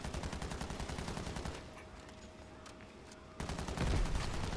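Rapid automatic gunfire rattles in Call of Duty: Modern Warfare III Zombies, a dense fusillade that eases briefly then returns louder in sustained bursts, with no talk over it.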